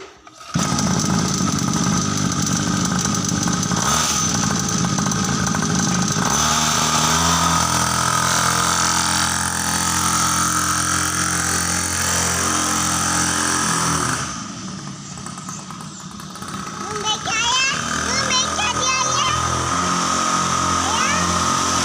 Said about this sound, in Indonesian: Sekarang kita akan coba tes dulu motor ini sebelum di upgrade.